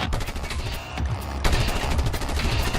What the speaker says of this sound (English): Shoot the bomb mountings.